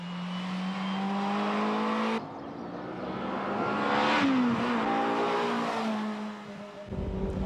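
Ferrari F355 from 1994 accelerating hard, its engine rising in pitch through gear changes, loud and continuous with a brief whine near the end before cutting off.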